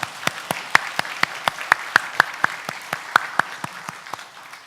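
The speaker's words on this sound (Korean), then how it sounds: "감사와 영광의 박수를 올려드리겠습니다" A church congregation claps in slow, even unison, about twenty distinct claps at a steady rhythm, moderately loud and fairly close over a quiet room.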